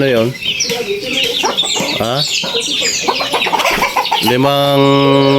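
Brahma chickens cluck and call close by, a busy overlapping flock of short clucks and squawks with a drawn-out tonal call near the end, fairly loud.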